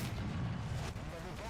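A tank cannon shot in War Thunder, heard as a deep, rumbling boom that fills the whole moment and carries heavy low-end roar with no clear start or fade.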